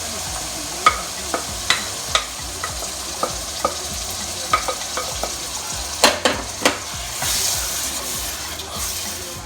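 Chicken gizzards stir-fry with a green pepper mixture in a hot pan, giving a loud steady sizzle punctuated by repeated sharp spoon scrapes and knocks against the pan, then a surge of hissing steam at the end.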